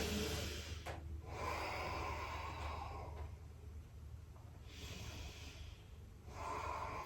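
Slow, deep breathing during a yoga stretch, with long airy inhales and exhales rising and falling in a steady rhythm, close to the microphone, with no talking.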